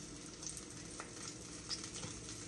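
Precooked sausage frying in a pan, a soft, steady sizzle and crackle with faint stirring scrapes, quiet and continuous with no talking.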